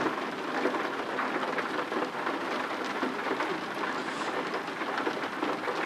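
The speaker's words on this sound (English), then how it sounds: "Raining outside, raining in the game." Steady, dense rainfall in a truck driving simulator game hisses continuously, an even wash of drops with no voices and no breaks.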